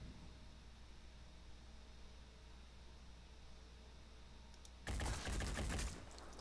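A soldier's gunshot in the tactical video game Phoenix Point: one loud, noisy burst of fire lasting about a second, breaking through a quiet, steady background hum with no talking.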